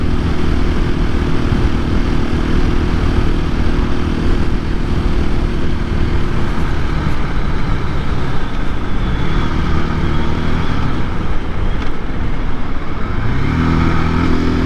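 A 2024 KTM EXC-F 500 dual sport motorcycle's single-cylinder engine roars loudly and continuously, its pitch shifting as it drops through gears on trail riding, with heavy wind rush.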